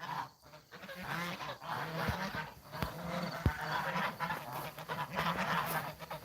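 Geese honk repeatedly at a mountain farm, a dense, overlapping flock chorus that carries on steadily throughout, loud and close, with a few sharper knocks mixed in.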